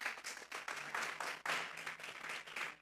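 A church congregation applauds, with uneven, fairly faint clapping in irregular bursts that rises and dips over a few seconds.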